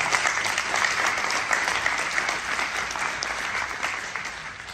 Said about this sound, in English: I want to give a round of applause to uh, Signature Bank and the Barnett Foundation for putting on a great event.